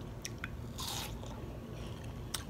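Juicy watermelon is bitten and chewed close to the microphone, a few quiet crisp crunches and one longer wet bite against a faint background.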